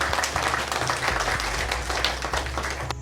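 Audience clapping to welcome visiting performers at an outdoor street play, a steady patter of hands over a low hum, with a few voices mixed in.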